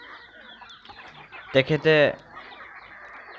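Local free-range chickens kept by a woman on a small Assamese farm give a few loud, close squawking clucks in a short burst over steady background noise, with a brief spoken word nearby.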